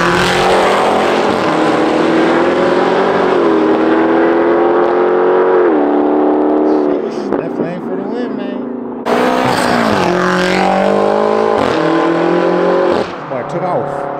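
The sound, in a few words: Camaro street race cars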